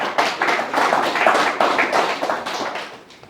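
A church congregation applauds in acclamation of Jesus, with dense, steady clapping from many hands that swells and then fades toward the end.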